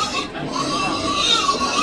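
A pig grunts and squeals steadily and close by during a ceremonial pig exchange at a traditional Kodi gathering in Sumba, the noisy calls continuing without a break.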